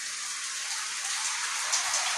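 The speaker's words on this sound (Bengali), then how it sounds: "বাইরে প্রচন্ড বৃষ্টি" Heavy rain falls outside in a dense, steady hiss of drops that stays continuous and fairly loud from start to finish, with no voices.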